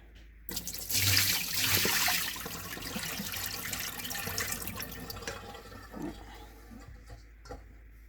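Water gushes out suddenly as it is poured off washed beans, pouring steadily for a few seconds, then thins to trickles and a few drips, close by.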